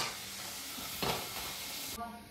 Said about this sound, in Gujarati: અને હવે બટાકાની કાતરી પાડેલી હતી એ થોડી તળી દઈએ